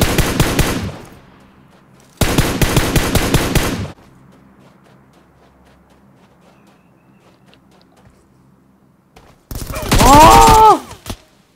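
Automatic gunfire from PUBG Mobile on the Livik map, heard in two loud dense bursts near the start and a third harsh burst toward the end, with quiet game ambience in between.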